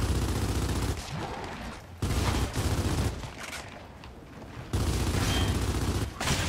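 Heavy automatic gunfire in Gears of War 4 on Xbox One plays as loud, dense bursts that cut out briefly and return, with no talking over it.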